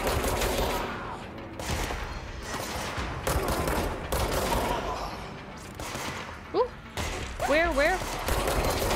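Rapid gunfire from the video game Control pops in loud repeated bursts inside the Bureau, with a player's voice briefly speaking over the shots and a few squeaky whistling effects near the end.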